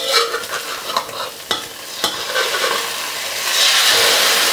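Basil omelette frying in oil in a pan, loud close sizzling with a few sharp utensil knocks and scrapes early on, then a swelling hiss of spattering oil toward the end, with no talking.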